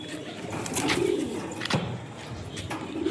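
Pigeons of good breeding stock cooing at a home loft, a few soft, low coos spaced through the moment at close range with no talk over them.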